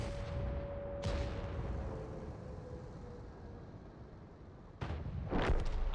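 Tank cannon fire in World of Tanks booms twice, one blast near the start and a heavier burst near the end, over a rumbling engine and battle ambience.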